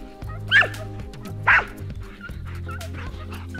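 Two sharp dog barks ring out close by, with whining and yips from hunting dogs chasing a deer on a hunt along the Tagus in Extremadura, Spain, over a steady low background.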